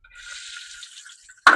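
Ginger and garlic fry in coconut oil with a soft, even hiss close by, then a sudden loud sizzling burst right at the end.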